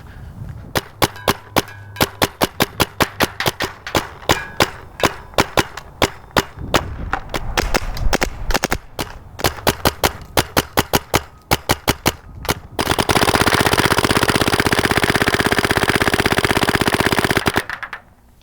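Paintball marker on an Ego body fired through a Deadlywind carbon fiber barrel at a target range, a rapid string of sharp, distinct shots in bursts, followed by a long steady hiss of air near the end.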